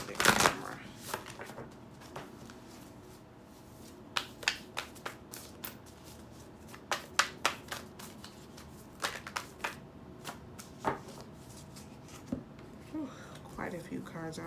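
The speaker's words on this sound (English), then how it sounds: "So I'm going to go ahead and pull you guys some cards from this Spirit Animal Oracle deck." A Spirit Animal Oracle card deck is shuffled and handled, giving scattered crisp riffles and taps in irregular bursts, near and moderately loud, with a person talking throughout.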